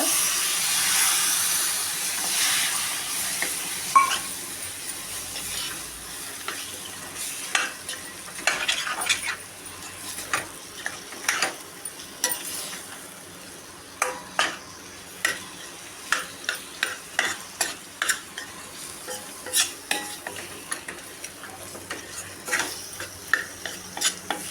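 Prawn gravy masala sizzles and hisses in a pan after a sprinkle of water, with a steady frying hiss and repeated scraping, tapping strokes of a spoon stirring it, close and alone.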